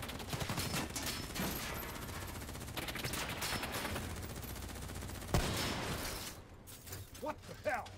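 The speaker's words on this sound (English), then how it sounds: "Who's shooting?" Sustained gunfire bursts from the Call of Duty Black Ops 3 campaign, dense and continuous with a sharp loud crack near the end, mixed with game voices and battle noise.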